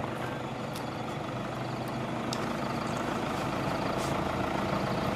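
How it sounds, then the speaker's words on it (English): A car drives along with a steady low engine and road rumble, close and moderately loud, with a few brief high squeaks or hisses scattered through it. "The car makes repeated stops."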